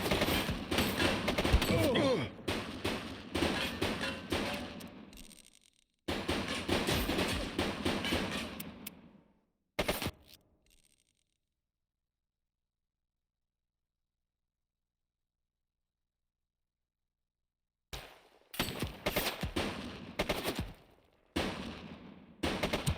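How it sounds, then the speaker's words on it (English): Rapid bursts of gunfire from a shooting suspect in the police game The Precinct, loud and dense, in several volleys broken by a long stretch of silence midway. "She's shooting!"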